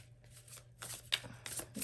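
Tarot cards are shuffled by hand during a reading, a short run of soft riffling bursts and flicks that is quiet and close, with no voice over it.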